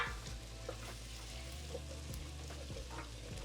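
Vegetables cook in a beef stew pot as broth goes in to deglaze the bottom, producing a soft, steady sizzle with faint bubbling and light scraping, heard alone at low volume.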